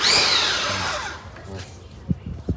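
A water filter plant machine mounted in a vehicle is switched on, starting with a loud high-pitched mechanical whine that gradually fades, followed by a few brief knocks and a voice speaking nearby.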